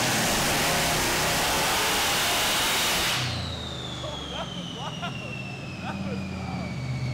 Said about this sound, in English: I'm going to do another part throttle test, just a little more load this time.